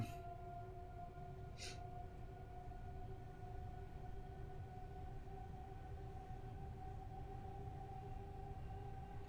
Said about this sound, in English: I do like the sound of EMUs, any electric engines or electric units, because they're a lot quieter than diesel.